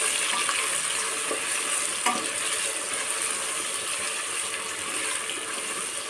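Ginger-garlic paste is sautéed with onion masala in a pan for khichdi, giving a soft, steady sizzle with occasional light spatula scrapes and clicks throughout.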